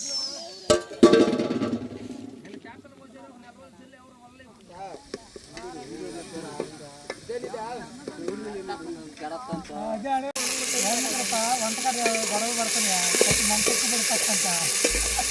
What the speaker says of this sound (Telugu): టమాటాలు ఎర్రగడ్డలు మాడిపోతున్నాయి.